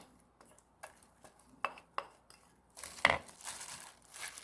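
Zucchini tossed by hand with red pepper and mixed seasoning in a bowl, with soft clinks and rustles in the first half, then a denser burst of wet mixing and scraping toward the end, fairly faint and close.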